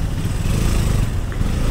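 A KTM Duke 200 BS6 motorcycle, a single-cylinder bike back running after a fault, idling close and loud with a steady low, throbbing engine drone.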